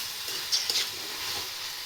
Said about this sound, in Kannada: ಬೆಂಡೆಕಾಯಿ ಮತ್ತು ಇದರಲ್ಲಿ ಎಣ್ಣೆಯಲ್ಲಿ ಮತ್ತೆ ಚೆನ್ನಾಗಿ ಫ್ರೈ ಆಗಲಿ ಹೇಳಿ